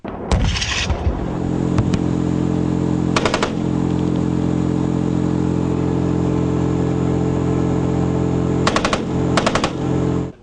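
Bursts of rapid gunfire break out in short clusters during military training, over a constant engine drone, with a few single shots between them.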